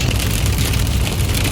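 Steady, loud rain drums on a lifted monster truck, a dense continuous patter that fills the scene with no voices.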